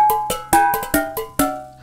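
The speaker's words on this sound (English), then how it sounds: "That's the sound of the brush being hit right on the top." A brush strikes the raised nipple center of a muted gong, giving about seven quick, close metallic hits with short ringing tones that fade between strokes in an uneven rhythm.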